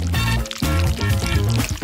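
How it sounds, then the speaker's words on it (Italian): Strawberry syrup is poured over a milkshake in a cooking challenge, a steady, close pouring sound lasting about two seconds with a brief break midway and a tonal hum underneath. "Non resta che spruzzare sopra lo sciroppo alla fragola."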